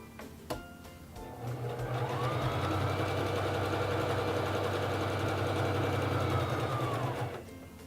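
A SINGER Fashion Mate 3333 sewing machine stitching at a longer stitch length, a loud steady motor hum and rapid needle chatter rising after a faint click and running evenly for about five seconds before winding down.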